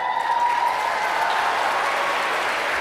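A commencement audience applauds continuously, a steady roar of clapping in a large space, heard as an even, fairly loud wash with a faint tone running through it.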